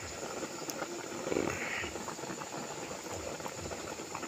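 Pot of nilagang baka, a beef stew with potato and saluyot, boiling steadily at close range, a continuous bubbling hiss with no speech.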